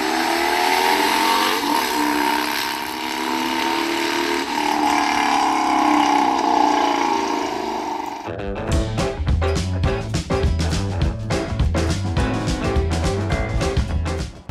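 A motorcycle ridden on Tennessee's Foothills Parkway, its engine droning steadily with shifting pitch, then giving way to a rhythmic, pulsing passage, loud and continuous with no talk.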